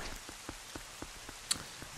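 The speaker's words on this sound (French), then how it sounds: "Il y a de la pluie." Rain falls at Hyrule Castle in Zelda Twilight Princess HD, a quiet, sparse patter of individual drops with one slightly sharper tick, and no voices.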